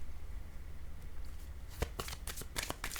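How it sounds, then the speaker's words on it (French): A tarot card is laid on a table during a reading, producing a quick flurry of crisp card slaps and shuffling rustles near the end of a short, quiet stretch. "Je vais déposer une carte ici."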